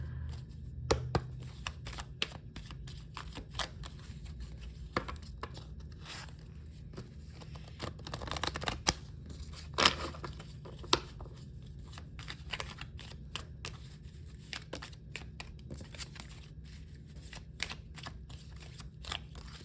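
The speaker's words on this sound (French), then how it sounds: "Alors je vais juste prendre quelques cartes de celui-là." Playing cards shuffled and drawn from a deck in a quiet room, with soft rapid riffling and short flicks and taps spread across the whole stretch, faint and close.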